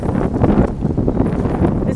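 A strong gust buffets a hiker wearing a pack out in open fields, producing a loud, continuous low rumbling roar of wind across the microphone.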